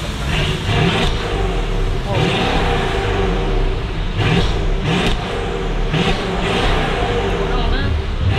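Mercedes S-Class fitted with downpipes, an intake and a tune, its engine running with a deep, loud burble and repeated rev pulses close by.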